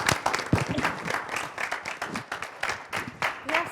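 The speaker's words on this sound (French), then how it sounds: "Nous allons devoir inviter Madame Victoire sous vos applaudissements" An audience at a youth debate show applauds as a guest is invited forward, uneven clapping with individual sharp claps standing out, fairly close and continuous.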